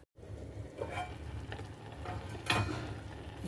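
A home-kitchen pot of peanuts, chana dal and semolina coming to a boil: steady low bubbling and simmering texture throughout, with a few soft spoon or pot clinks, the loudest near the end.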